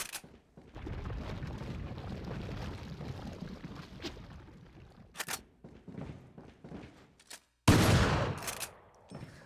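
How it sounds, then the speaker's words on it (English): Mine dart explosion in the Resident Evil 4 video game: after a stretch of scuffling, thuds and gunfire-like bursts, a single loud, sharp blast erupts near the end and rumbles briefly before fading. "The explosion also blew off that lock."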